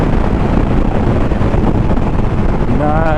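Strong wind buffets a microphone during a motorcycle ride up Snowdon in Wales, a loud, continuous roaring rush with gusty low-end thumping and a faint rising whine near the end.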